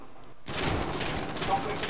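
Sudden burst of rapid gunfire from Call of Duty: Modern Warfare kicks in after a short quiet moment, dense and loud, continuing to the end.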